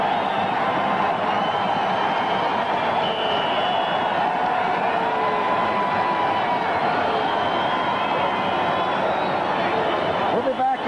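A stadium crowd at a 1982 NFL game between the Redskins and Cardinals roaring steadily as quarterback Jim Hart enters, a continuous broad wash of voices with commentary underneath.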